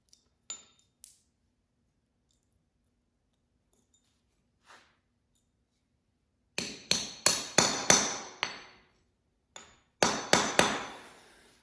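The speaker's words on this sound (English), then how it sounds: "pound that pal nut on through this hole here" A pal nut being pounded onto a metal rod resting on concrete with a hammer, during assembly of a John Deere 46-inch blade: a few isolated taps, then two bursts of sharp, ringing metallic blows in quick succession, close and loud.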